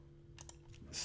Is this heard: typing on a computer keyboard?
yes